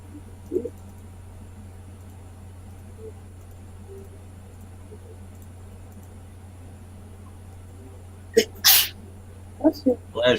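Late in a quiet room with a steady low hum, a sharp, close sneeze breaks out, followed by a few short voice-like bursts.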